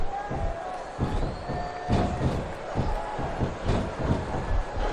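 A capacity arena crowd roars steadily through a six-man elimination tag match in the WWE SmackDown vs. Raw 2007 video game, with thuds of impacts punctuating the cheering and commentators talking over it.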